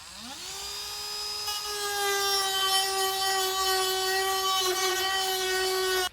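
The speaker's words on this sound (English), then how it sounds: "Just going to use a Dremel tool, just go back and kind of, again, just file down those edges so they're not as sharp." A Dremel rotary tool files down sharp plastic fascia edges on a 2019 Toyota. It makes a high, whining tone that rises as it spins up, then holds a steady, fairly loud buzz for about six seconds before cutting off.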